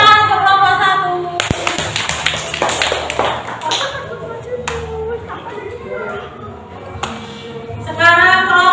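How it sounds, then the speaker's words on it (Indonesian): Participants at a school coaching session applaud a group after its presentation, a short burst of sharp claps rising between spoken remarks, then fading as talk resumes. "Tepuk tangan untuk kelompok 1."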